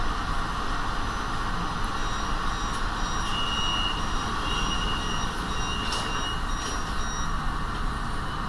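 An underground metro train in Malaysia pulls out of a station, a loud steady rumble of wheels and motors with faint high squeals and short tonal beeps over it, no voices.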